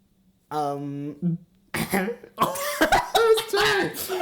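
A voice imitates Professor Umbridge's prim little throat-clearing cough, a short voiced "ahem" on its own, followed by someone talking close up.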